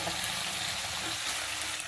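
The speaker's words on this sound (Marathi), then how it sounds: "आता आपल्या शेंगा परतून झाले, आपण याच्यात पाणी ओतू." Water poured into a pan of sautéed drumsticks for a village-style drumstick curry makes a loud, steady rushing sizzle that fills the whole moment without a break.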